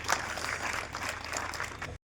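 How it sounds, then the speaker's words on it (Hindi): An audience at an organized event breaks into steady, dense clapping for a departing guest, with broad continuous applause filling the whole stretch before it cuts off abruptly. "तालियां बजा दीजिए गाइस"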